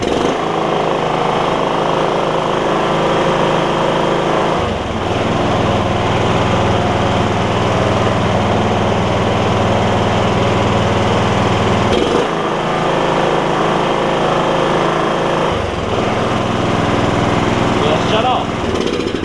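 A Kawasaki 9hp engine runs steadily on a John Deere RX75 riding mower, a loud continuous small-engine drone whose pitch shifts a few times as the throttle changes. A voice speaks briefly over it.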